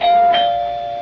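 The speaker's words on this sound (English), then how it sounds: "Doorbell." A single doorbell chime rings out clearly, one sustained bright tone that rings and slowly decays, heard alone in a radio mystery drama.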